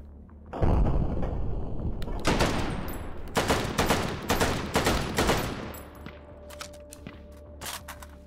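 Rapid bursts of close gunfire in the VR shooter H3VR, several loud volleys separated by short gaps, then sparser single shots near the end.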